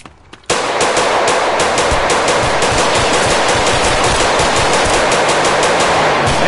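Loud, close automatic gunfire in the Roblox game South Bronx: a continuous rapid rattle of shots bursts in after a brief quiet start and keeps going without a break.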